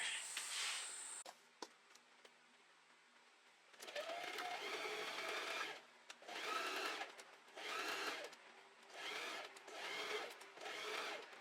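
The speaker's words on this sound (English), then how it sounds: "we want to lay them with the good sides facing each other and sew along here" A sewing machine stitches pieces of linen shorts together in several bursts of rapid whirring, each lasting about a second or two with short pauses between, close and clear with no talking.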